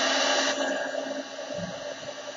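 A heat tool blows a steady, hissing stream of hot air over coffee filter flowers, close and even, fading slightly toward the end.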